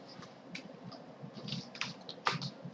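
Someone types on a computer keyboard to log in as root, with quick, irregular keystrokes and a few sharper clicks, close and fairly quiet.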